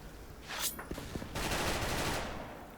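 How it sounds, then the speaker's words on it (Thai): Bursts of rapid gunfire from a G36C rifle in the game Special Force crackle and rattle, with a sharp volley early on, then a longer sustained spray. "เพื่อนยิงด้านซ้ายมือได้ยินเสียงนี่ไง"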